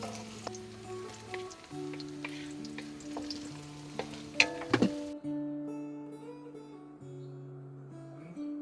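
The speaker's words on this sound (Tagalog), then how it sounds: "Lagyan na po natin ang roasted garlic marinara sauce." Roasted garlic marinara sauce hits a hot pan and sizzles steadily, with stirring clatter and a few sharp clinks at the middle, under sustained background music that carries on after the sizzle fades.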